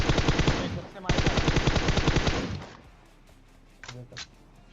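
Automatic gunfire in PUBG Mobile, a dense rapid burst of loud shots that runs for over two seconds and then stops, followed by a couple of faint thuds.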